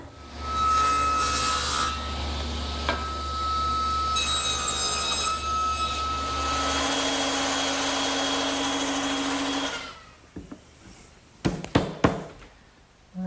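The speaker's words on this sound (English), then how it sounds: "Now I need to cut a tenon on the end of those intermediate supports to fit into those mortises" Handsaw cutting a tenon on the end of a 2x4 wood support for a garden bench, steady rasping strokes for about ten seconds, then a few sharp knocks and clatters close by.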